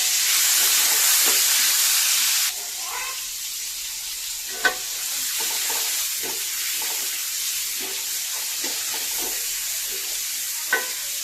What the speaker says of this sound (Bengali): এবার এই একই তেলে আমরা বাগদার চিংড়ি যেটা দেখেছিলাম সেটি ভাজা করে নেব